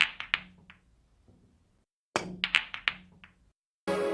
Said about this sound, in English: this is the original effect of the billiards shot taking place